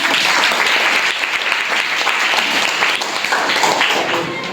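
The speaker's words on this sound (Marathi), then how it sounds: "जीवनसाठी सगळ्यांनी टाळ्या" Schoolchildren at a village primary school quiz clapping together, a loud, close burst of many hands sustained for several seconds before tapering off slightly, with a voice faintly heard beneath.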